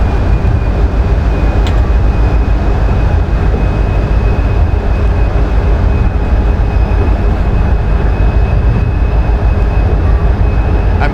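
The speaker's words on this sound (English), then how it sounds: "Oh my gosh, this train is powerful. Wow, we're taking off" In a train simulator game, a PRR V2 locomotive on the Santa Fe Express powers up and accelerates, giving a loud, constant low rumble and roar with a faint steady whine above it.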